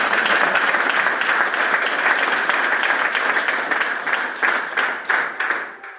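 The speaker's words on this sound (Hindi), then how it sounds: "एक बार जोरदार तालियां" Loud, sustained applause from a crowd at a company celebration in Kaithal, dense and even for most of the stretch before breaking into rhythmic, separated claps that fade at the end.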